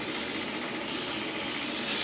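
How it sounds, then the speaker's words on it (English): A Bizond clothing steamer puffs out hot steam in a steady, breathy hiss that holds at an even level for a couple of seconds, close by and with no talking. "So I'm gonna put on my steamer, give it a little bit, and it's already puffing out hot air."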